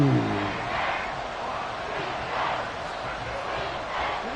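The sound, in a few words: football stadium crowd cheering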